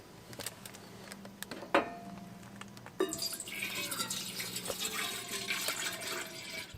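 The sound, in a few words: pouring water into coffee percolator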